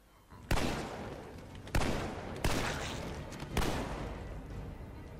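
Semi-automatic gunfire in The Walking Dead: Survival Instinct: four loud, sharp shots spaced about a second apart, each trailing into a rumbling echo.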